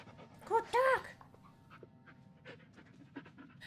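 A dog pants in short quick breaths, with a brief whimpering yelp near the start, then softer panting and faint shuffling, quiet and close.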